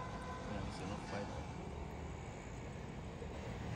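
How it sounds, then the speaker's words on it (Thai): A train passes by in Hokkaido, Japan, its steady rumble and rolling noise filling the short stretch at moderate distance, with no clear talk over it. "รถไฟกำลังวิ่งผ่านมาพอดี"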